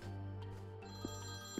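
Steady electronic ring of a telephone in the video game Priest Simulator, a continuous tonal ringing heard close and alone, with a couple of faint clicks.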